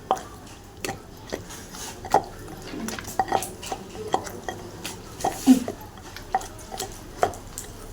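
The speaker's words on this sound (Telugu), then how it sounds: "టమాటాలు వేసి మెత్తగా దంచుకోవాలి" Tomatoes are pounded in a mortar for a ripe red chili chutney, making dull, wet thuds about once a second in an uneven rhythm, close by and moderately loud, with no talk.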